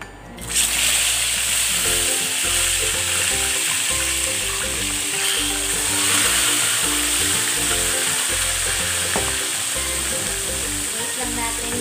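Tilapia fries in hot oil in a pan with a loud, continuous, close sizzle and crackle that holds steady throughout, with no talk over it.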